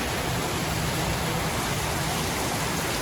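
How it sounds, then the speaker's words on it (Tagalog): Heavy rain pours down in a dense, continuous hiss, filling the whole clip with steady noise and no talking. "lakas ng ulan mga kabayan. Hindi kami makalabas."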